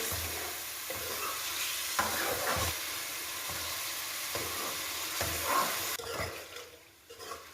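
Goat liver frying in a pan for kaleji masala: loud steady sizzle and hiss with occasional stirring scrapes, close up, fading toward the end, no one speaking.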